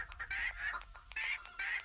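Playful chicken song in a Toca Boca video game: several bright, rhythmic clucking bursts repeat over a light musical backing, loud and close, with no speech.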